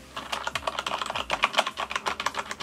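Rapid clattery keystrokes on a Corsair K95 RGB mechanical keyboard fitted with O-rings, a close, slightly softened stream of typing taps with short pauses, no voice.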